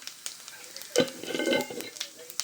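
Whole cumin seeds dropped into hot oil for a Gujarati ridge gourd and sponge gourd curry, giving a sudden burst of close sizzling and crackling that swells and then settles into a steady fry with light stirring.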